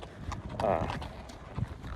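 Horse hooves clop at a walk along a dirt trail in open space in Douglas County, Colorado, faint, with wind and a voice talking over them.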